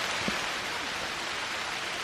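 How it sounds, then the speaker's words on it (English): Steady rain falls on leaves outdoors near Neuschwanstein Castle in Germany, an even, dense hiss of drops lasting throughout with a faint brief tap near the start. "so luckily the rain is mostly getting on the leaves"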